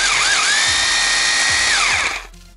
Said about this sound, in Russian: Самым популярным режимом большинства перфораторов является режим сверления с ударом.